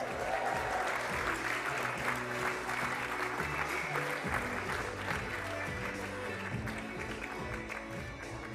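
A crowd applauds at a netball awards night, sustained even clapping from many hands filling the room, with music playing underneath and a voice briefly heard.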